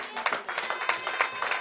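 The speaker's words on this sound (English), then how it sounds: "I think you're supposed to clap for us." A church congregation at a C&S service in London breaks into scattered clapping, uneven hand claps at moderate distance mixed with voices murmuring through the room.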